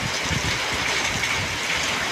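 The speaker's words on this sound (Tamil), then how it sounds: "நல்லா வேகமாக மழை பெய்யுது." Rain falls hard in front of a shop, a steady, moderately loud hiss and patter with a soft low rumble underneath, continuous and without voices.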